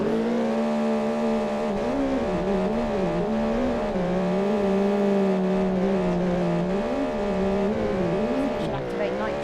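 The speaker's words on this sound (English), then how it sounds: "Doing a bunch of donuts." A car in BeamNG.drive spins through donuts, its engine droning loud and close with shifting pitch as the revs rise and fall, and tires squeal continuously underneath.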